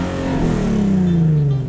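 A Nissan 370Z engine holds at a steady, droning rev with a slight pitch drift, stuck against its 4,000 RPM limiter.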